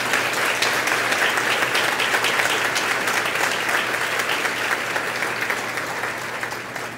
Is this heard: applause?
yes